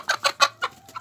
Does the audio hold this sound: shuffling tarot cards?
no